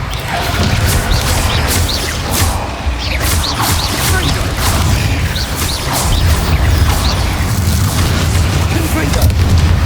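Spell impacts in a Hogwarts Legacy battle against goblins land as repeated heavy booms and crashes over a dense, continuous roar of combat effects, with voices mixed in.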